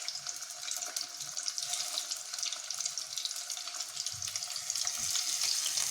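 Vegetable cabbage rolls fry in medium-hot oil, giving a steady, dense sizzle that holds throughout and grows slightly louder toward the end, with faint low knocks beneath and no voices.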